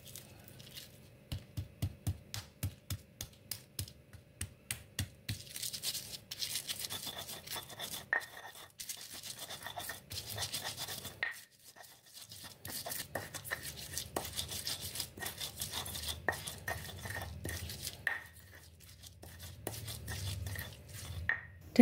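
Chili paste ingredients for sambal, including toasted shrimp paste, are ground by hand, with steady rhythmic scraping and crushing strokes that pause briefly midway, close and soft.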